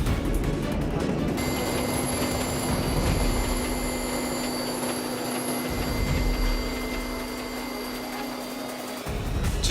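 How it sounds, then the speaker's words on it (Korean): Firefighting helicopter deployed to a forest fire, giving a steady, loud mechanical engine and rotor whine with a constant pitched hum throughout, close and continuous without speech. "빠른 진화를 위해 헬기 투입이 결정."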